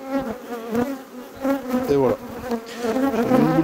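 Bees buzz close by in a shifting, humming drone that rises and falls, loud and without speech.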